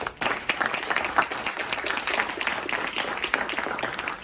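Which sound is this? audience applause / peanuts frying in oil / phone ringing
audience applause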